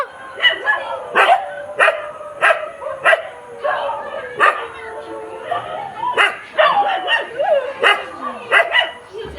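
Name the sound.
dogs barking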